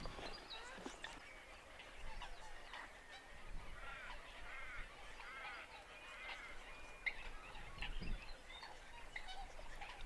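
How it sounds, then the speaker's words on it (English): Waterfowl such as geese honk repeatedly near a bird hide on the south-east coast, a series of calls at middle distance, some overlapping, with faint talk underneath. "I think they're little waterfowl,"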